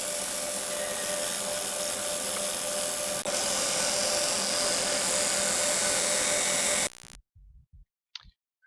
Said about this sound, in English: Now it is time to sand it all off